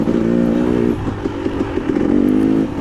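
A 2022 KTM 300 XC-W two-stroke dirt bike ridden through wooded trail sections of a six-hour endurance race, its engine droning steadily with rising and falling revs and some clattering over rough ground, close and continuous throughout.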